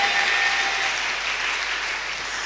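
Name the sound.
church congregation applauding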